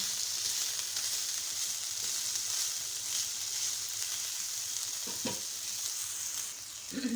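Browned chicken pieces with ginger garlic paste sizzle steadily in a pan, a quiet continuous frying hiss with occasional stirring clinks and scrapes, no voices.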